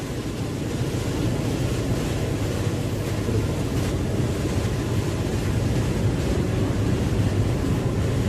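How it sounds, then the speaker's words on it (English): A MAN B&W 6S60ME-C marine diesel engine runs dead slow astern, producing a steady, dense low rumble with broad mechanical roar and hiss that holds constant throughout, with no voices. "Then the engine will run at dead slow astern."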